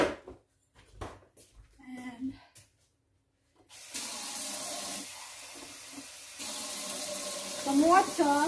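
A kitchen tap runs steadily into a container while a beef and broccoli sauce is being made, a continuous splashing rush after some scattered clatter and a brief voice, the pitch rising as it fills.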